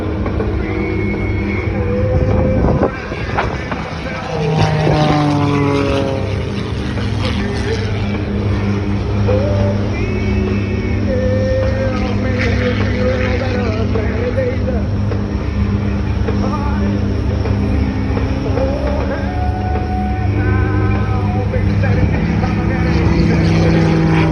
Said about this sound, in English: Super Chipmunk has been highly modified into the airshow airplane we see today.